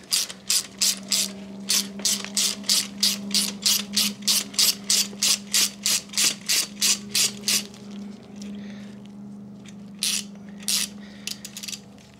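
A ratchet spanner clicks quickly and steadily as it releases the top nut on a Harley Davidson Low Rider ST front fork. About twenty crisp, close clicks run in a fast, even rhythm, followed by a few scattered clicks after a pause.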